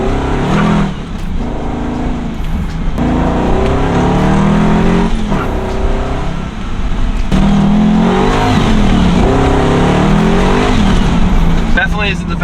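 LS V8 swapped Nissan Z32 revving and accelerating loudly, the engine note rising and falling in repeated pulls with gear changes, a close, aggressive exhaust roar filling the whole stretch.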